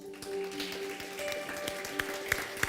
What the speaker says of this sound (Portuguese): Será que você pode aplaudir a Jesus?